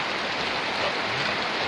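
Heavy rain pours outdoors in a steady, dense hiss, with constant splashing on surfaces during a windy storm near rice paddies; no talking.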